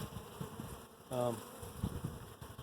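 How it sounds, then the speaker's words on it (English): Honeybees in an open hive hum softly during a frame inspection, with one brief, clearer buzz of a single bee passing close over the quiet background drone. "This was the Delimont Acres hive."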